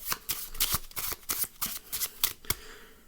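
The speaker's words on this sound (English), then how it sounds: "we can take the deck and the spectator can give it a shuffle" A deck of playing cards being riffle-shuffled, a quick series of crisp, papery bursts close up, with a final snap near the end.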